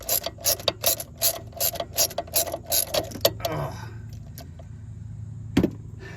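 A ratchet wrench clicks in quick, even bursts while turning a 15 mm bolt on a car alternator, then stops, followed by faint handling noises and a single metallic knock.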